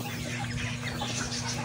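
White Kelso chicken clucking softly in a backyard, faint low murmurs over a constant steady hum, no clear separate calls.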